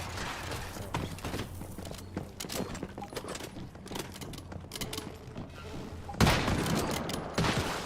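Gunfire in the video game Once Human, bursts of rapid shots crackling over game ambience with thuds and footsteps, a louder volley near the end, and a person talking briefly in between.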